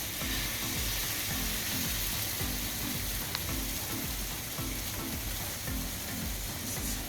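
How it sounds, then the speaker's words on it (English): Vegan banana pancake batter fries in small rounds in a hot pan, making an even, dense crackling sizzle heard up close, steady throughout, with one brief tap and no voices. "we're just gonna pop in some of the batter and make lots of little pancakes"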